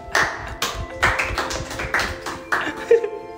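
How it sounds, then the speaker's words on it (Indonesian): A small group claps in sparse, separate bursts at a behind-the-scenes gathering for a convocation ceremony, the hand-claps uneven and close, with people talking between them. "Tepuk tangan"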